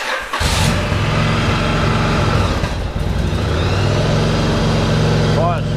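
An engine that has sat unused for a while, started with a bit of choke, catches after a short crank and settles into a loud, steady, close-up running note, with a voice briefly over it.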